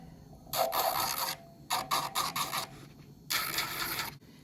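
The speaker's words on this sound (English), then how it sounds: "I go back in with my e-file at 4 now, and I'm filing the tip of the nail" Electric e-file filing the tip of an acrylic nail, a close, raspy buzzing grind in three bursts of about a second each with short pauses between, heard alone without talk.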